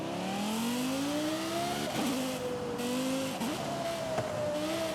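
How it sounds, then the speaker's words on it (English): Car engine in Forza Horizon 5 revving loudly and steadily, pitch climbing and dropping through several gear shifts with faint tire noise, alone without talk. "I don't know what engine is in this, but it sounds crazy."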